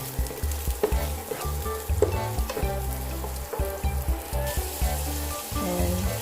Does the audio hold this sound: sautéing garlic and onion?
yes